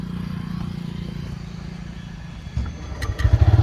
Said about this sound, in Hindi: तो मैंने हल्का सा थ्रॉटल दिया और बाइक स्टार्ट भी हो गई